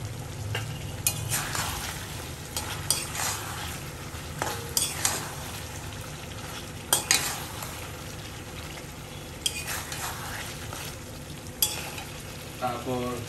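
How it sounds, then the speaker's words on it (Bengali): Green chillies and cooked-down chicken sizzle in a pan while a spoon stirs them, the steady frying hiss punctuated by repeated scraping and clinking strokes against the metal, with no speech. "একটু নাড়াচাড়া দেব।"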